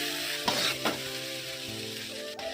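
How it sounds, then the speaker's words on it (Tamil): Egg noodles tossed with pepper, vinegar and chilli sauce sizzle steadily in a hot pan, with two sharp scraping strokes from the utensil near the start and another near the end, and no voices. "அப்போ பெப்பரு, வினிகர், சில்லி சாஸ் போட்ட அப்புறமா நல்லா மிக்ஸ் பண்ணோம்."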